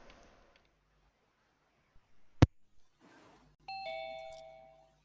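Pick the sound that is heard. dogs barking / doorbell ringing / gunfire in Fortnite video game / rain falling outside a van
doorbell ringing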